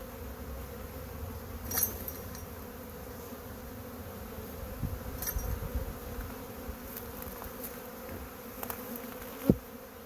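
Honeybees buzzing steadily as a hive frame is shaken during a nuc transfer into ten-frame deep boxes, a continuous droning hum with a few brief knocks and a sharp tap near the end.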